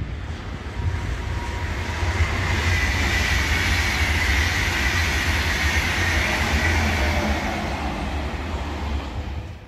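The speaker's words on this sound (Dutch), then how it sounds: "En onze trein is een nieuwe lint van Abellio." A new Abellio Lint regional train runs with a loud, steady rumble that holds unbroken from start to finish, with no talk over it.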